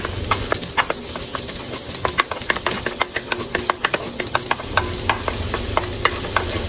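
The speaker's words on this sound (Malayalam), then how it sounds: "എന്നിട്ടൊന്ന് ആ പച്ചമണം മാറുന്ന വരെ ഒന്ന് ജസ്റ്റ് ഇളക്കി കൊടുക്കാം" Crushed ginger, garlic and green chili sizzle in a pan while a spoon stirs them, giving a string of sharp scraping taps over a steady low fry.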